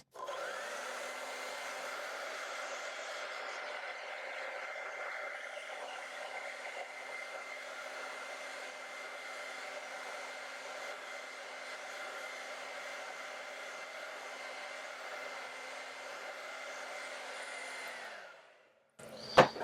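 A hair dryer blows steadily on acrylic paint for about eighteen seconds, a constant loud whirring roar that cuts off abruptly near the end, followed by a brief sharp click.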